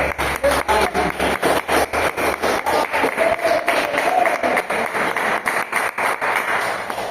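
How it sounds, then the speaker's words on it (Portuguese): A church congregation claps together in joyful worship, steady rhythmic beats pulsing through the whole stretch with a crowd murmur beneath. "glorificar a Deus com palmas bem alegres"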